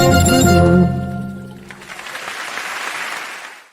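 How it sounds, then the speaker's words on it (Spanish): Applause from a theatre audience for a comedy group, starting under fading music and then continuing as a steady, fairly loud wash of clapping. "Aplauso."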